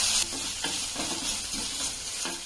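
Vegetables for a broccoli and green pea pulav sizzle in a hot pan as a spoon tosses and stirs them, with a steady hiss broken by a few scraping strokes.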